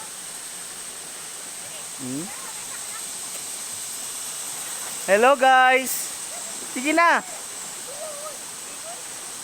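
Strong rushing water from a deep river swollen by frequent flooding, a constant broadband roar close by throughout, with a few brief spoken words and voices over the top.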